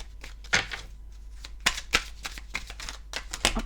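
Tarot cards being shuffled by hand: quick rustling riffles and soft slaps in uneven bursts, close and fairly quiet, with no talk over them.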